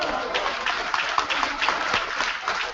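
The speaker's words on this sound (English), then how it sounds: "Large applause from the defence of the Workington side." A rugby league crowd at a Workington match applauds steadily for the home defence, a dense, sustained wash of clapping with a commentator's voice running over it.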